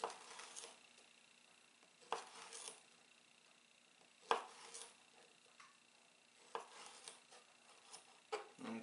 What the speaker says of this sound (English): Now we're going to cut some sausage and see how we do.